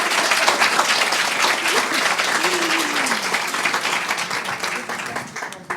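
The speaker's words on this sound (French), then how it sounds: "Ah, voilà, alors applaudissements." Sustained audience applause closing a plenary session at a medical conference, dense and even clapping filling the room from start to finish, easing slightly near the end.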